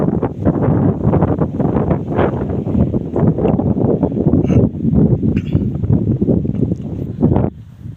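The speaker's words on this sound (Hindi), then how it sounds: "तेज़ हवा ज़बरदस्त" Strong, gusty wind sweeps across a rice field and buffets the microphone with a continuous loud rumble and roar that swells and dips for several seconds.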